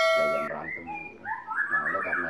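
A white-rumped shama (murai batu) calls close by in a brief, loud burst of clear whistled notes, sliding and warbling over about two seconds, with a steady tone at the start.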